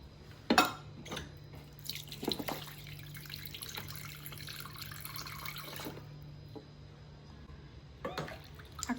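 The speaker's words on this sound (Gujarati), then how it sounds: "અને હજુ થોડું પાણી પણ એડ કરશું." Water is poured into kadhi batter in a cooking pot, heard as a faint splash and trickle with a few sharp knocks and clinks of the vessel, quiet overall.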